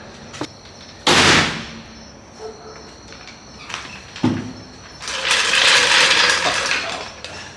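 A ratchet tightens a wheel back onto a Ford F-150 during a lift kit install, with short clicking bursts and sharp knocks amid garage noise, ending in a longer rattling stretch.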